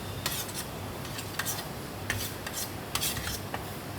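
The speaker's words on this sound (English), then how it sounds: "All right, mix it around just to get all the flavors together." Sambar being mixed into a masala dosa, heard as soft, uneven scraping and rubbing strokes with a few sharper scrapes roughly every second, close and steady against a low background hum.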